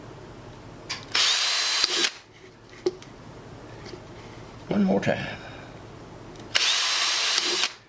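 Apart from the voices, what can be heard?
power drill drilling holes in wooden bird feeder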